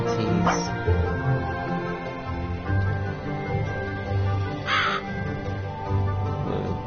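A crow character in a PS4 horror game gives several harsh, distinct caws, close and loud, spaced over a murmuring game backdrop with low thuds.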